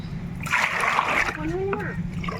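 Liquid plant solution splashes and sloshes as it is poured into plant pots in a short, steady stream, close by, with a faint voice in the background.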